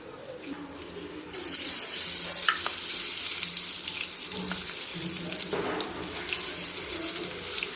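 Tuna fish pieces frying in oil for Chilli 65, a steady close hiss and crackle that jumps up suddenly and then holds at a constant loud sizzle with scattered pops.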